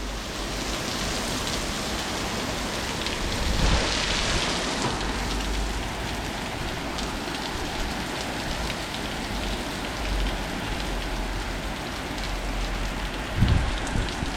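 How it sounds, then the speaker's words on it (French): Dense, heavy thunderstorm rain pounding down continuously, a loud hissing wash, with a low rumble of distant thunder near the end. "Ça c'est une sacrée pluie, hein."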